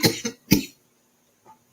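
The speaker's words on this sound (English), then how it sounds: "coughing" A person coughs in short, close bursts: two quick coughs, a louder third, then a faint small one and a brief final sound, with silence between.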